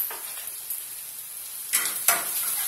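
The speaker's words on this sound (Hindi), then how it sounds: "Now we'll fry till the onion becomes golden brown." Onion frying in a pan for Punjabi kadi, a soft steady sizzle with a couple of sharper scraping stirs near the end, close but quiet, with no voices.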